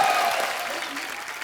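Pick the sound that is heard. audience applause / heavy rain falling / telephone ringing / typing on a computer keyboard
audience applause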